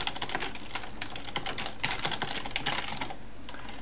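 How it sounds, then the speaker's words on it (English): Rapid keystrokes clatter on a computer keyboard while coding a C++ tutorial, a dense steady run of close, crisp clicks with no talking. "So yeah, let's get typing."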